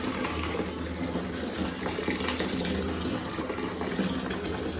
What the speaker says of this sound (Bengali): এর মধ্যে গরম জলটা আমি দিয়ে দিলাম